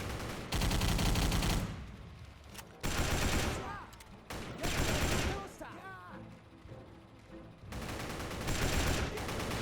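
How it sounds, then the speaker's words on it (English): A BAR rifle in a video game fires in long rapid bursts at a group of enemies in a room, loud and close, with brief pauses between volleys. "The bar is such a good weapon."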